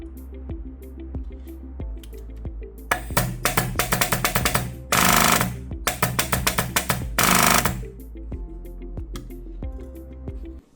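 A pneumatic 22-gauge auto stapler with a 3/8-inch crown and double-length magazine fires in a fast clattering test: a steady idling hum underneath, then rapid bursts of sharp mechanical clacks broken by two loud hissing blasts of air, before settling back to the hum.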